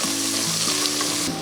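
Four chopped onions fry in hot oil for mutton biryani, giving a steady close sizzle with light stirring and scraping sounds, no voices.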